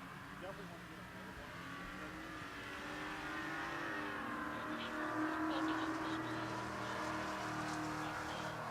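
A Chevrolet Chevelle and a Nova race side by side on the drag strip at Pueblo Motorsports Park, their engines building into a steady, rising roar heard from a distance beneath an announcer's voice.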